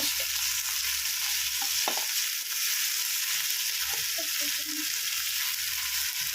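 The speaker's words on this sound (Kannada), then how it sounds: "ಲಾಸ್ಟ್ನಲ್ಲಿ ಕರ್ಬೇವಿನ ಸೊಪ್ಪು ಹಾಕ್ತಾ ಇದ್ದೀನಿ." Curry leaves sizzle in hot oil as a lemon rice tempering fries, a steady close crackling hiss with a few small pops and stirring scrapes throughout.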